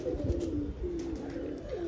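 A low, soft cooing from a domestic flying pigeon rolls on steadily, close by, in a throaty repeated murmur with no talking.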